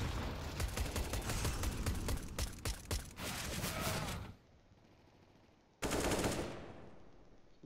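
Gunfire in the shooter game CS:GO during an Australian ESEA MDL match: rapid bursts of automatic fire for about four seconds, then a lull, then another short loud burst, close and without talk.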